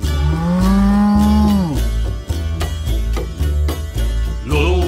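A drawn-out cow moo rises over a folk song's accompaniment, followed by continuing instrumental music with a dense, steady texture.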